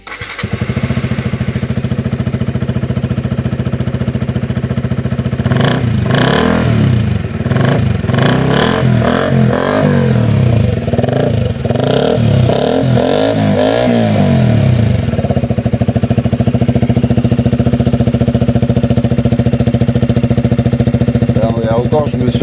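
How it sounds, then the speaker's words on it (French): KTM RC125 sport motorcycle engine idling steadily, then given a series of quick, close throttle blips and revs in the middle before settling back to idle. "Est-ce que tu peux nous démarrer la moto et nous mettre des petits coups de gaz tranquillou?"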